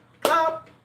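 A single sharp hand clap rings out close by, followed by a brief fading tail and quiet; part of a gathering of older people who clap hands together and laugh.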